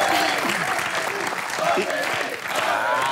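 Studio audience applause on a comedy game show marathon, a steady crowd of clapping hands that dips briefly near the end, with a host's voice speaking over it.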